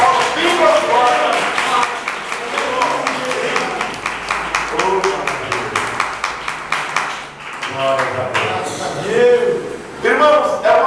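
Church congregation claps together during a sermon gathering, with rhythmic, fairly close applause that pauses briefly and then picks up again, with speech heard alongside.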